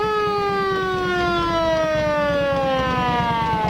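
Optional siren on a redneck parade vehicle with a hydraulic boom and strobe lights, a loud steady wailing tone with a slow downward pitch glide, a rapid mechanical pulsing underneath, continuous and close.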